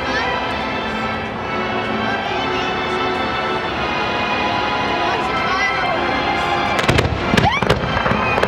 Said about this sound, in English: They're breaking higher than I thought.